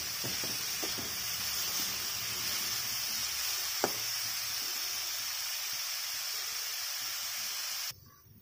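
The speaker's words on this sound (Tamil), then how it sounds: "பீட்ரூட்டை நல்லா நெய்யில் நம்ம வதக்கிப்போம்" Beetroot sautés in ghee for beetroot halwa, giving a steady, moderately loud sizzle with occasional small pops and one sharp tap. The sizzle cuts off abruptly at the end.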